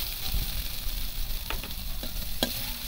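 Nigella seeds (kalo jeere) sizzling in hot oil for a hilsa fish curry, a soft steady frying hiss with a few small crackles and stirring clicks, no voices.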